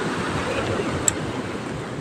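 Rough sea with big waves in stormy, cold, rainy weather, a continuous low rushing wash heard from a distance with wind noise on the microphone and one brief sharp click.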